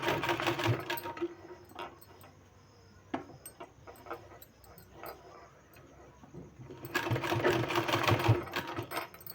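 A sewing machine stitches folded palazzo pant fabric in two loud bursts at the start and end, with a quieter stretch between them marked by faint clicks and handling sounds.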